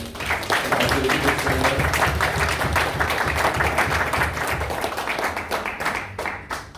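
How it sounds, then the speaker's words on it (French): Church congregation at a Nazarene service claps together in dense, continuous applause, with voices mixed in underneath, fading slightly near the end. "Eh bien, nous allons applaudir le Seigneur."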